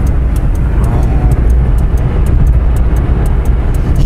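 Steady, loud engine drone and road rumble from inside a moving Daewoo Tico, continuous with no talking.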